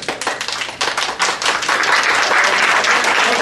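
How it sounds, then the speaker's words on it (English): Audience clapping at a Concord, New Hampshire city council meeting: dense, close rattling claps that start loose and build into a steady, full wash of applause. "No clapping one way or the other."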